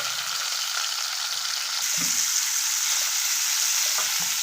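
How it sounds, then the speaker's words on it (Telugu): Half a kilo of cut, squeezed bitter gourd (kakarakaya) fries steadily in a pan, a continuous broadband sizzle with a few soft stirring knocks, no voices. "ఇట్లాగే ఈ కాకరకాయ మొత్తం బాగా ఫ్రై చేసుకోవాలి మాడిపోకుండా ఫ్రై చేసేసుకోవాలి"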